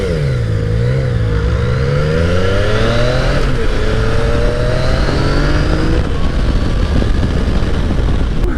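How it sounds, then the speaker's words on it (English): A Chevrolet Camaro accelerates away on a road, its engine note rising loud and steady through several gear climbs, heard from a 2015 Yamaha FJ-09 motorcycle alongside with constant wind and engine noise. "How much you want to bet this Camaro's going to take off?"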